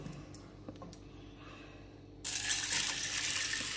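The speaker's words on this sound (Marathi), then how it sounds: "आता एवढं पाणी घालायचं" Water gushes suddenly into a cooking pot of dal for katachi aamti, a loud steady pour starting partway through after a quiet kitchen lull.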